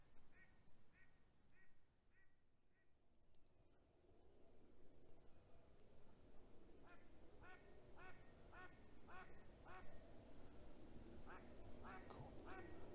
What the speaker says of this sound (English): Hanging out with the ducks.